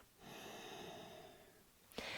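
Ujjayi breathing through the nose with the mouth closed and the back of the throat constricted, a soft, close, hissing airflow sustained for about two seconds, then a brief catch and renewed breath.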